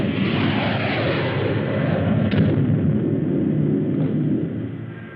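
A ship's guns fire in a 1954 film: a loud, continuous roaring barrage with a dense rumble, one sharper report partway through, tapering off at the end with no talk.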